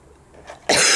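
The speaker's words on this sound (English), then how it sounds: "Still coughing, guys, still coughing." A single sharp cough at close range, sudden and loud near the end after a quiet start.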